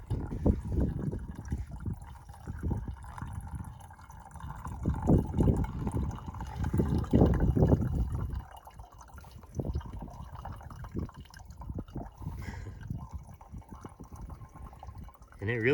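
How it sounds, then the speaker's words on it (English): Water runs through a hanging filter into a water bag on a desert trail in Arizona, a close irregular trickle and dripping that swells and fades, with faint handling noises and no speech. "So I'm gonna go ahead and continue filtering my water"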